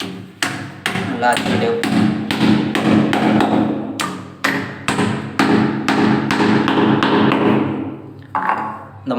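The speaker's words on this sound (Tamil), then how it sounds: "இப்போ நம்ம அச்சுக்கட்டி அடிச்சிடலாம்" Repeated hammer blows thud as a wooden anchor is driven into a floor, roughly a dozen strikes in an uneven rhythm, loud and close, with brief pauses between some hits.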